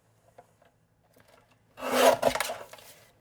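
Card stock being trimmed to size with a paper trimmer, a short loud rasping slide of about a second that follows a few faint taps, close by and alone.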